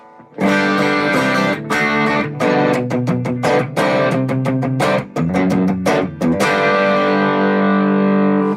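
Electric guitar through a Nobles ODR Natural Overdrive pedal, with a warm overdrive, plays strummed chords and choppy rhythmic stabs, then lets a final chord ring out and fade.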